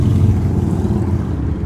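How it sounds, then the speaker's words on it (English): A motorcycle passing by: a steady, loud low engine rumble throughout, mixed with wind buffeting, with no voices. "Oh, another motorcycle driver."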